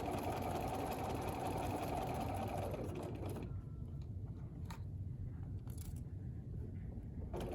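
A sewing machine stitches a quilt 9 patch block, a steady close mechanical whirring hum that stops abruptly about halfway through, leaving a quiet low-level background with faint small clicks.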